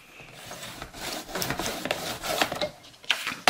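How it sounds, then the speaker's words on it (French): A paper trimmer's creasing blade scoring a fold into card, giving a rough rubbing, scraping sound in uneven strokes, close and fairly loud, with no talking. "je me place en bas de mon massicot pour utiliser la lame du plioir en bas"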